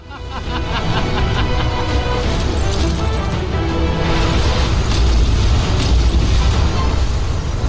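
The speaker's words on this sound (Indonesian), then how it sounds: "saat Xiaoyan meledakkan bunga kematiannya di sana" A massive, sustained fire lotus explosion in an animated series roars with deep rumbling booms and crackling bursts, loud and continuous, swelling after a brief onset.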